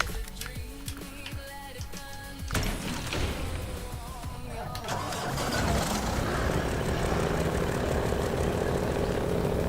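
Loud truck engine in the SnowRunner video game, starting up and building from an idle rattle into a heavy, sustained roar that grows louder and stays steady.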